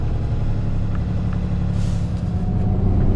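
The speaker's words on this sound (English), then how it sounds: "Air brakes." A large truck idles with a deep engine rumble, and a short hiss of air brakes releasing comes partway through, loud and close from inside the cab.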